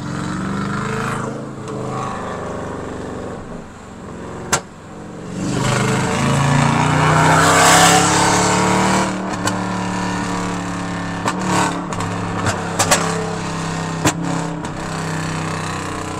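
Dodge Challenger, a left-hand-drive car, rumbling and revving loudly while driving, with a steady exhaust drone broken by several sharp, brief crackles and pops.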